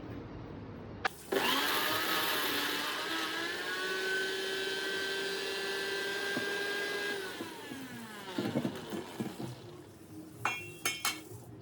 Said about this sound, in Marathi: इथे वाटण करत घेतलंय. तीळ, जिरं, आलं, मिरची, लसूण, कोथिंबीर याचा सगळा मसाला बनवायचा.